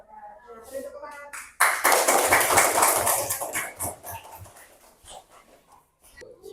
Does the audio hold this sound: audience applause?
yes